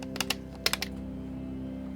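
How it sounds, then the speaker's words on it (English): Clicky buttons on an Elgato Stream Deck pressed in two quick bursts of sharp, close clicks, three then three, over a steady low hum with no talk. "They feel a lot more clicky than they used to be, which is good."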